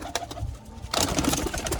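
Pigeons coo close by in soft, rolling murmurs, then a burst of fuller cooing and bird calls joins in, loud and dense, with no talking.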